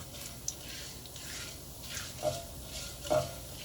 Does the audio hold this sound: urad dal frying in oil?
yes